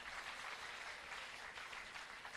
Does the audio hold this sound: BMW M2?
no